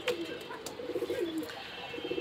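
Pet pigeons, a male courting a hen, cooing in a few soft rising and falling throaty phrases, close and fairly quiet, with light rustling around them.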